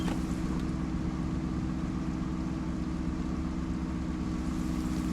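Car engine idling in the video game Project Zomboid, a steady low droning hum, constant and unbroken, with no talk over it.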